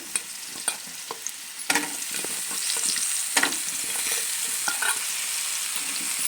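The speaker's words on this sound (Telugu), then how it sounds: "ఒక స్పూన్ ఆయిల్ వేయండి ఈ ఆనమకాయ ముక్కలో ఇలా వేసుకొని వేయించుకోండి" Bottle gourd pieces frying in oil in a pan, a steady close sizzle with scattered clinks and scrapes of stirring, no voices.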